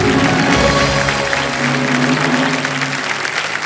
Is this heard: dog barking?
no